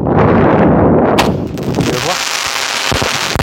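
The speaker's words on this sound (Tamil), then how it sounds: "இப்போ இந்த வெடியில் எப்படி வெடிக்க நான் வெடிச்சு காட்டுறேன் வாங்க." A Sivakasi skyshot firecracker bursts outdoors in a loud, dense barrage of crackling pops and bangs that rolls on continuously, fading slightly into scattered sharp reports.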